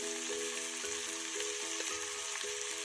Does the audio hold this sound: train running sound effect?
no